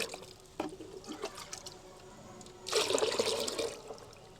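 Water poured into a container to dilute a rose plant fertiliser solution to about ten litres, a soft trickle followed by a louder splashing pour lasting about a second, close by and without talk.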